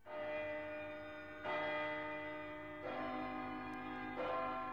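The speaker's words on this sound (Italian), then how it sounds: "Per chi suona la campana?" Church bell tolling in a steady series of sustained, ringing strikes, each new stroke swelling over the lingering hum of the last, loud and clear with no voices.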